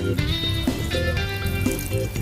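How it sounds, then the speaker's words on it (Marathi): Water pours steadily into a pan of okra being cooked with yogurt, a continuous splashing trickle heard close up for a couple of seconds without speech. "पाणी टाकूया आता"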